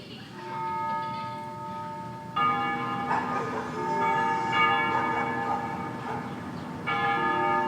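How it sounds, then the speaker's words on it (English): Church bells ringing at dusk in the combat flight game Ace Combat Zero, rich overlapping peals with sustained tones, struck anew a few times, moderately loud under a soft ambient bed. "They ring the bells here at dusk to honor the liberation of the capital"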